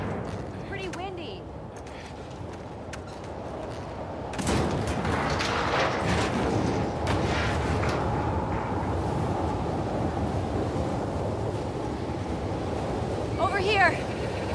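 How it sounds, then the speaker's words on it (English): Gusty wind in The Last of Us Part II, a low rushing roar that swells sharply after a few seconds and keeps blowing steadily, with people talking over it at moments. "It's pretty windy"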